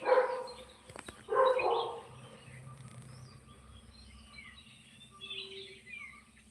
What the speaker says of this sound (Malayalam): എല്ലാ സ്ഥലത്തും ആ ഏരിയ മൊത്തം പട്ടികളാട്ടോ